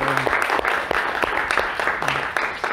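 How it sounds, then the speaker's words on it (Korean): A church congregation applauds steadily, a dense wash of clapping with a few sharper claps standing out, and a voice briefly heard underneath. "우리 모두 하나님께 영광의 박수를 올려드립니다"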